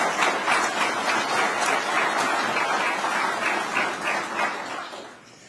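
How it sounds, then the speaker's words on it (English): An audience at an Alabama state announcement applauds in a steady, dense wash of clapping that holds for several seconds and then fades out near the end. "I think we owe both of you a big round of applause"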